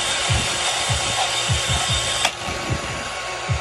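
A saw blade rasps through G10 knife handle material in steady, rhythmic back-and-forth strokes, close and fairly loud over a constant background hum, with one sharp click partway through.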